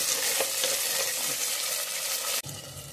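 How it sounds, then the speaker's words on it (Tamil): Shallots, cumin seeds, dried red chillies and curry leaves sizzle and fry steadily in a hot pan, a continuous bright crackle that cuts off abruptly near the end, leaving a softer low bubbling. "சாலட், சாம்பார் வெங்காயம் போட்டு வதக்கிக்கோங்க"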